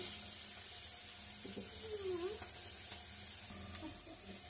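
Cumin seeds sizzling in a mix of mustard oil and white oil in a pan, a steady soft frying hiss that goes on throughout, with faint kitchen clatter.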